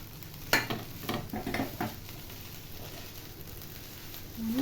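Grated coconut and jaggery syrup are stirred in a pan. A few quiet scraping strokes come early, then fade to a low, faint sizzle in a calm kitchen.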